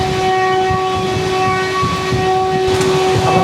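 A Tiruchirappalli–Sri Ganganagar Humsafar Express train passes close by near the Vadodara yard in Gujarat. It gives a loud, steady rolling rumble, with sustained horn tones held throughout.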